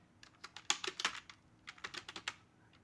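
Code is typed on a computer keyboard in quick bursts of close, crisp key clicks, with a short pause in the middle and no talking.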